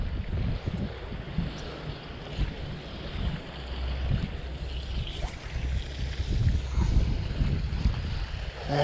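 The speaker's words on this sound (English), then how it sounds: "this wind's making it near enough impossible to cast" Wind gusts across a lake at a winter trout fishery in the UK, a steady loud rumbling roar with buffeting swells that fill the clip without any talk.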